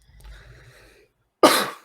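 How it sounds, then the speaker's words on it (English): A single harsh throat clearing, close and loud, bursting out after a stretch of faint low background noise. "Sorry, I had to clear my throat for it."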